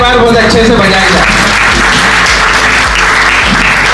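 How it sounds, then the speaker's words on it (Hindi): An audience at a State Bank of India retirement function claps, a loud, dense, steady applause heard very close, with a low rumbling thud and a strong hum-like tone beneath it throughout. "तो क्यों ना तालियां एक बार बहुत अच्छे से बजाई जाए"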